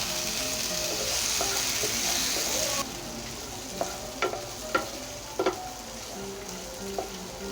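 Boiled chickpeas fry with garlic and cumin over low heat, a steady hiss that drops partway through, followed by a few distinct spoon scrapes and taps as they are stirred, close up and without talk.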